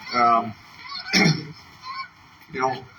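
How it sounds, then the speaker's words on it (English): Geese honking nearby in British Columbia, three loud nasal calls separated by short pauses, with faint background noise between them. "I love seeing the geese"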